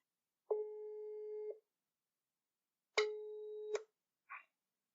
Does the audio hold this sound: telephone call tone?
yes